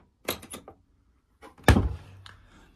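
A Bosch washing machine's door is handled, giving a couple of light clicks and rattles, a pause, then a heavier close thunk with a brief resonant tail, near and fairly quiet.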